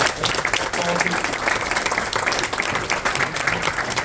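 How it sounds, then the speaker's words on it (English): Dense, steady applause from a crowd at a school rugby league team jersey presentation fills the whole stretch, with many hands clapping at once. "a round of applause for the committee and all of them"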